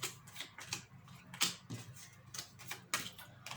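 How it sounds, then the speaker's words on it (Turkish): Cards are turned over and laid out on a table in quick, light taps and soft slaps that come in irregular clusters, faint and close, with no talk. "Pekala bakalım şimdi kartları bir açalım."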